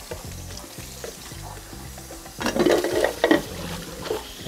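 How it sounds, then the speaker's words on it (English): Film developing tools rinsed under running water at a home darkroom sink: a soft, steady splash of water starts partway through and rises to a close, rushing hiss, following a quieter stretch with a faint tonal background. "I also like to kind of rinse my tools."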